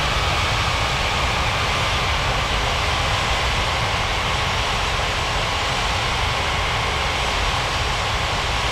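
A commercial airliner rolls for takeoff on runway 34 left at a fictional international airport in an air traffic control simulation game, heard as a steady, dense engine roar that holds constant and loud throughout with no speech.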